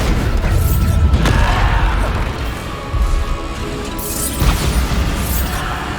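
Bombarda spell blasts in Hogwarts Legacy, a string of loud booming explosions and crashing impacts, with a sharp burst near the start and another surge later, over dense continuous game combat noise.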